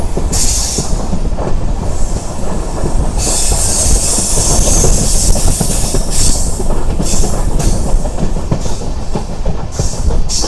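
Inside a Tirupati–Secunderabad superfast express with LHB coaches, a loud, constant roar of wheels on rail fills the scene, with rhythmic clickety-clack over joints and bursts of high wheel squeal on a curve.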